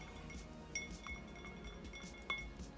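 Quiet glass clinks as beard oil ingredients are stirred in a glass container, a few sharp isolated taps against a soft steady background, no talking.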